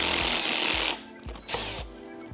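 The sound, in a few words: power drill drilling out a part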